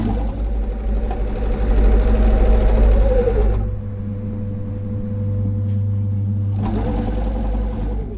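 Sewing machine stitching a seam on a drawstring bag: a loud close motor whir runs a few reverse stitches, pauses briefly, then starts again stitching forward, no speech.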